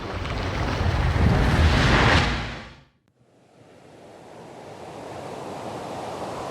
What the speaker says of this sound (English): Ocean, water,